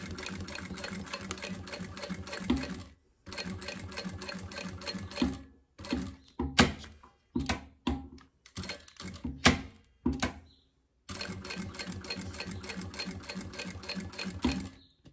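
Domestic sewing machine stitching synthetic Montana material for a wallet: long steady runs of fast mechanical stitching, broken in the middle by short starts and stops with clicks, then a final long run.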